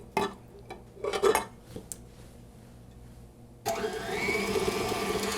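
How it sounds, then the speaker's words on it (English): Stand mixer beating egg and milk into pie dough: a few clinks and knocks of utensils first, then the motor starts up and whirs steadily and loudly for the final seconds. "add the egg and milk and mix it for a few seconds"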